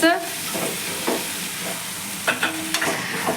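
Chopped pumpkin stirred and fried in a hot pan, with a steady close sizzle and a few scraping stirs of the spoon over a short stretch.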